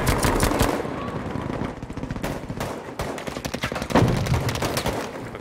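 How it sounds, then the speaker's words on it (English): Rapid machine-gun bursts and single shots in the Battlefield game crackle repeatedly at mid distance, forming dense rhythmic volleys with brief pauses between them, plus a heavier thump near the end. "Yeah, he's shooting at the house."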